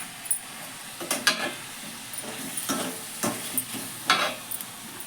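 A bottle gourd fish curry is stirred in a pan, with a spoon scraping and tapping in a few scattered strokes over a low, quiet simmering hiss.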